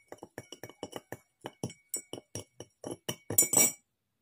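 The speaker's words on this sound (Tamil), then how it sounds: "நம்ம ஒரு ஸ்பேச்சுலா போட்டுட்டு நல்லா ஸ்டிர் பண்ணி விட்டுக்கலாம்" A spatula clinks against the sides of a glass beaker as sugar is stirred into water, a quick rhythmic run of bright taps ending in a busier rattle, close up and alone.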